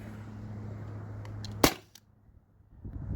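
A T4E HDP50 Gen 2 CO2 pistol fed from a remote tank line fires one sharp, loud crack that cuts off abruptly, leaving near silence after a low background hum.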